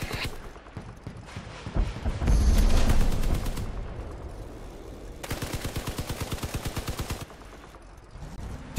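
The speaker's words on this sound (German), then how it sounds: "Ja, ich kann auf den Gegner schießen." Vehicle-mounted weapons in Crossout, a game of armed combat cars, fire rapid rhythmic bursts with one heavier blast early on. Mechanical clanking and rumbling run underneath, and the firing is moderately loud.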